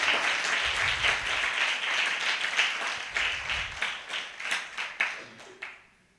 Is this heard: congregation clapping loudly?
yes